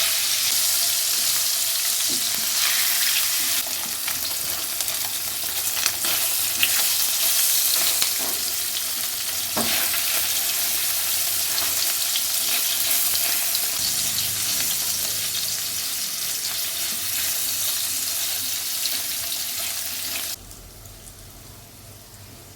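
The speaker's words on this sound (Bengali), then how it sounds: "এখন পনিরগুলোকে আমি ভেজে নেব।" Hot oil sizzles loudly and continuously as paneer fries over high-to-medium gas flame, with a few light pops and clinks, then the sizzle drops off sharply near the end.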